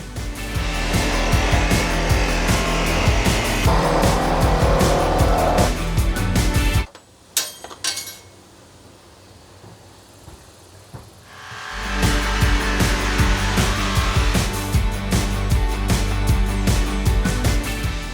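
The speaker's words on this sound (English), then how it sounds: "One of the things that we're doing differently is we're doing a long jigsaw blade, so hopefully it'll help us get around the corners a little bit easier" A jigsaw fitted with a long blade saws through the sheet-metal rear window opening of a van, loud and continuous, then cuts out for a few seconds of near quiet with faint clicks before the rough buzzing saw starts again.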